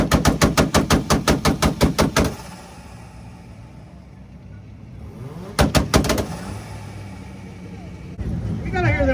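A pink Mazda's two-step launch control fires a rapid, loud, evenly spaced string of exhaust pops, stops, then lets off a shorter burst, with engine rumble between the bursts and voices in the background.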